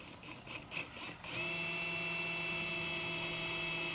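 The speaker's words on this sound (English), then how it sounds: "Pre-drill our second hole." A power drill pre-drills a hole for a Moryde Safe-T-Rail on an Impression 36BR3 RV: a few short bursts of spin, then a steady high-pitched motor whine held close and loud.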